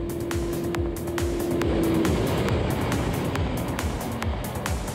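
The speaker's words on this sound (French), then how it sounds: "ce 4 cylindres de 1300 cm3 pousse comme une brute sans jamais montrer de signe de fatigue" A first-generation Suzuki Hayabusa 1300cc four-cylinder motorcycle howls at high speed, a steady loud engine roar with rushing wind noise and a sustained tone.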